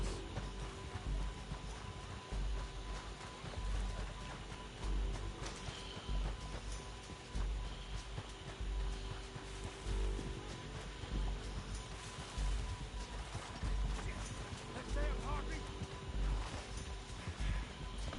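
Horse hooves clip-clop steadily in a video game, a continuous close rhythm of muffled hoofbeats over a dense, busy background of game noise.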